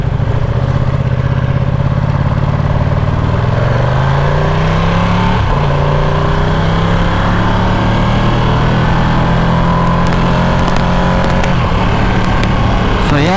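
A 2020 Ducati Panigale V2 rides along with a loud, steady engine drone that rises and falls with throttle changes. Heavy wind noise rushes continuously over it.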